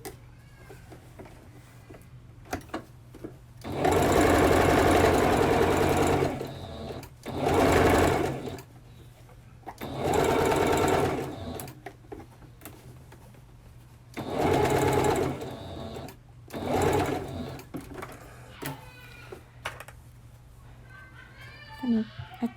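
A sewing machine runs in several loud bursts of rapid stitching to gather fabric, separated by quieter gaps with handling noises, and a cat's meow briefly near the end.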